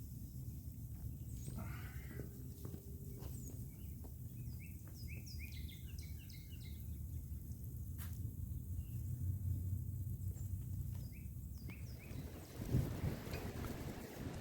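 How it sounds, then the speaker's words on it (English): Gusty wind buffets a microphone outdoors, giving a steady low rumble throughout, with faint bird chirps and scattered small knocks over it. "I apologize for the wind."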